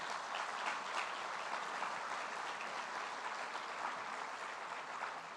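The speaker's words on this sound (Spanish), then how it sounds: "Yo pido un aplauso para ellos que nos han acompañado." Faint, distant audience applause at a formal agreement-signing and closing ceremony, an even wash of many hands clapping throughout.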